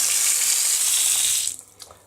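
Water gushes steadily from the hot side of a repaired European-style faucet into a sink, close and loud, then cuts off abruptly leaving a few faint drips.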